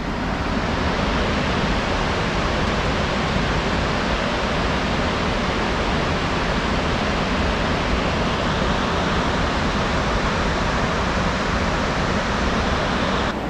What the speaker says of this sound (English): this is the first of the waterfalls